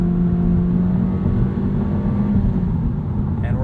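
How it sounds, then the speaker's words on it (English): A 2022 Honda Civic Touring sedan accelerating hard from a standstill toward 60 mph, with a loud, steady engine drone and rising revs heard from inside the cabin. "Great acceleration from a dig."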